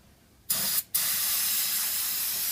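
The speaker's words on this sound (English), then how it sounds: "what works best on transmissions, if you're doing a valve body or anything like that, is brake parts cleaner" Brake parts cleaner sprays into the transmission pan of a Ford Expedition in two close, loud hissing bursts, a short one followed after a brief gap by a long continuous spray.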